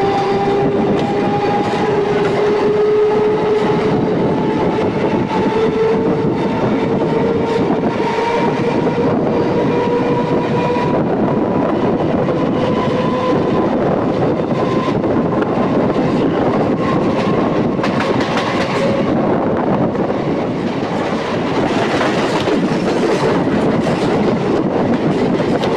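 A Howrah to Tarakeswar EMU local train runs at speed, a loud, steady rumble of wheels on rails with a rising motor whine, sustained and close from inside the carriage.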